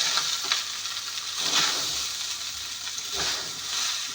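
Boiled rice fries in ghee over a low flame, giving a soft, continuous sizzle at moderate distance with a few gentle stirring scrapes and no speech.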